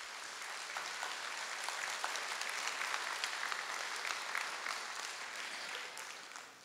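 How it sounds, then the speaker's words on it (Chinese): Steady applause from an audience at a children's concert, dense and continuous for several seconds, fairly distant and even, fading slightly at the end. "让我们为他们所取得的进步和成就而喝彩，而鼓掌"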